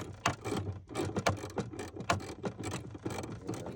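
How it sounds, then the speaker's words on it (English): A hand ratchet tightening the battery hold-down bracket on a BMW Z3 Roadster, a close run of quick metallic clicks in short bursts with brief pauses between strokes, loud and alone. "tighten it up a little bit with the ratchet"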